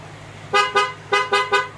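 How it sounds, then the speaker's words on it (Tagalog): Five short, loud honks from an aftermarket PIAA horn on a Yamaha NMAX 155 scooter in two quick groups, a bright blaring tone over a low engine hum. "So I suggest PIA horn, PIAA horn"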